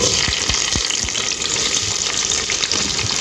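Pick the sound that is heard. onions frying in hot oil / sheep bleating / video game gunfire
onions frying in hot oil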